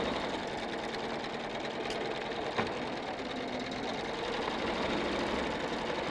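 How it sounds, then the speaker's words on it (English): Sewing machine stitching a quarter-inch seam along the edge of a cushion front, a steady mechanical whir running throughout at an even level, with no talk over it. "So I'm stitching 1/4 inch away from the edge of the pillow front."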